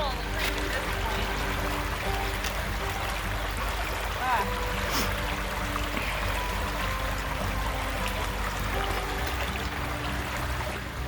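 A creek flows steadily around someone wading across it mid-stream, a continuous close rushing and trickling wash that fills the whole stretch without a break.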